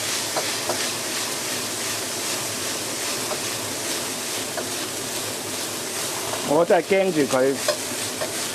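Cauliflower and cured meat stir-fry with garlic in a small, overfull wok, a steady loud sizzle with scraping stirs, and a brief burst of spoken voice near the end.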